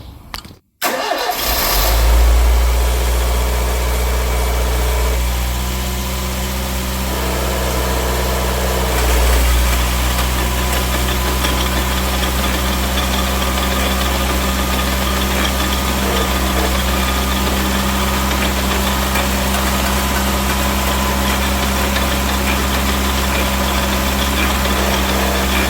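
A 1974 Citroën DS 23 IE Pallas engine cranks and catches, then settles into a steady, loud idle that rumbles on without pause.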